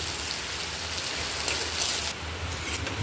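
Chopped onions sizzling in hot oil in a pan, a dense steady crackle and hiss that stays loud and even throughout, with no voices.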